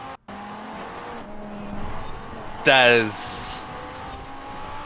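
A race car in Forza Horizon skids as its back end steps out over a bump, a sharp rising tire squeal over engine drone, with an excited commentator talking over it.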